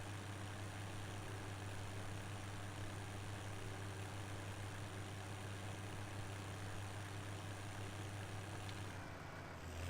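A tractor engine in Farming Simulator 17 idles and drones steadily, a constant low hum that holds for about ten seconds before easing slightly at the end, with no talk over it.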